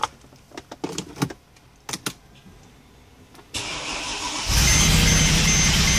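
A Mercedes with a cloned ECU, freshly repaired head gasket and failed PCM cranks with a few sharp clicks and keys jangling, then starts and settles into a loud, steady idle close by.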